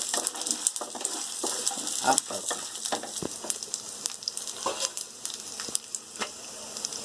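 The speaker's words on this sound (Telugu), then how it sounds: "కొబ్బరి, అల్లం, తెల్లగడ్డ వేసుకొని వేయించుకోవాలి." Grated coconut, ginger and garlic fry in hot oil in a pan, giving a continuous moderate sizzle broken by soft stirring scrapes and light crackles, with no talking.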